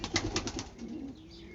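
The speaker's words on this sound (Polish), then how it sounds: "No I tutaj w środku mam takie gołębie." Soft, low cooing from Budapest and homing pigeons close by in a loft, with a few fluttery bursts at the start that sound like wings flapping.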